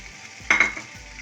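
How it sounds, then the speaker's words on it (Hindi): Boiled chicken, seasoned with soy sauce, salt, garlic and ginger, lightly frying in a pan: a short, close burst of sizzling with a utensil scrape, then quiet low hum. "बस इसको हल्का सा करेंगे हम फ्राई।"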